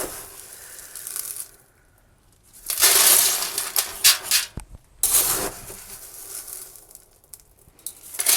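Potting grit pours into the bottom of a garden container for growing garlic, loud gritty rattling bursts that start and stop between short quiet pauses.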